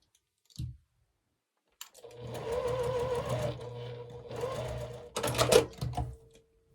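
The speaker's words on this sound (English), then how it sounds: "Go ahead and sew on this one." A sewing machine stitches a flying geese quilt block, running in two sustained bursts of steady mechanical whirring with a brief pause between, ending in a few louder clicks and clunks close by.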